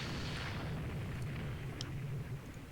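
Naval guns aboard warships fire in a battle in the game RTW2, a dense rumbling barrage of low booms blending into a continuous roar, with no talking.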